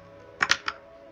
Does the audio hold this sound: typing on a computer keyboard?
yes